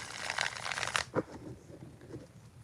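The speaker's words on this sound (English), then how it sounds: "All right, Indigo, 4 shuffles." Tarot cards shuffled by hand during a live reading: a brisk riffling rustle for about a second, then a few crisp flicks and softer card slides, close and fairly quiet.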